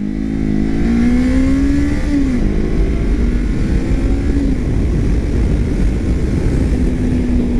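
Honda CBR500R motorcycle pulling hard at full throttle, its engine droning loud and close as the pitch climbs through the gears, dipping briefly at each shift before rising again, with no talking.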